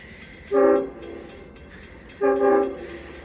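A train horn sounds two long blasts a couple of seconds apart over a low rumble of rail traffic, from a train on the Port Jefferson branch.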